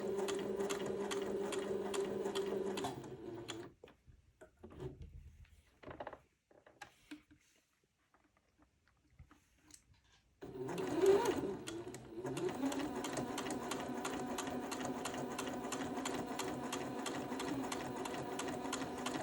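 A sewing machine stitches a seam with a steady rapid mechanical whir, stopping for several seconds of near silence broken by a few small clicks, then resuming at a constant pace up close.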